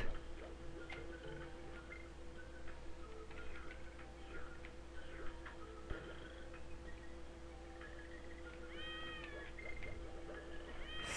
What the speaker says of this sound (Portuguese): Sai, gato.